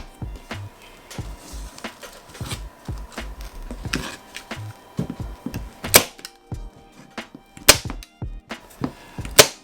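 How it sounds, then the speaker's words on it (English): A staple gun fires staples into a photo backdrop, sharp clacks with uneven spacing, some in quick bursts and several louder snaps later on, close by with no talk. "So let's get the stapling."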